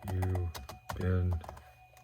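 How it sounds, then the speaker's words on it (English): Keys tapped on a computer keyboard in a 1999 setup, a short burst of clicks partly masked by a strong tonal, voice-like sound. "Let me type in Roswell."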